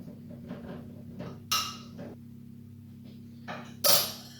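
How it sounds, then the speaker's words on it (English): A whisk beats wet muffin ingredients in a bowl, making irregular clinks and scrapes against the sides, with two sharper, louder strikes standing out amid the softer strokes. "let's give these a quick whisk together"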